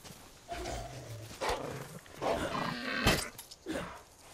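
A dog in Far Cry 5 lets out several rough barks and low growls in quick succession, moderately loud and close, with no talking.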